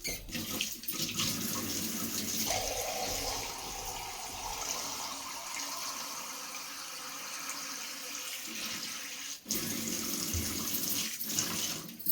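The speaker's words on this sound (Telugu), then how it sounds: "ఈ రోలు కడిగిన వాటర్ కొంచెం ఉన్నాయి కదండి, వేసానండి" Water used to rinse a grinding stone is poured steadily into a pot of raw fish curry with drumsticks, a continuous close splashing stream that briefly breaks off and then resumes.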